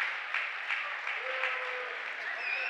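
Crowd at a high school varsity boys basketball game between Upper Lake and Mendocino cheering and clapping steadily throughout, a broad sustained roar of applause.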